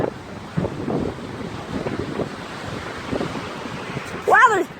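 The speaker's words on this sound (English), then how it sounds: "It is so windy." Strong storm wind buffets the microphone in a steady roar with gusting surges, while muffled voices speak underneath and a brief squeak comes near the end.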